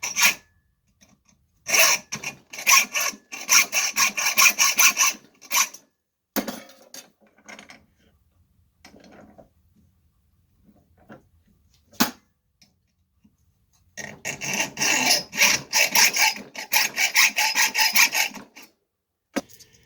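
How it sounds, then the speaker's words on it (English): A hand saw cuts a slot into the top of a broken screw: close, rasping back-and-forth strokes in bursts, with pauses and quieter scraping between, and a final long run of rapid strokes. "the first thing I do is cut a slot both ways"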